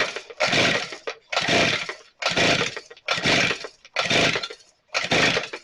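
A Shindaiwa T230X weed trimmer with its choke off is cranked repeatedly without firing: six evenly spaced, loud rasping bursts, each under a second long, separated by short silences.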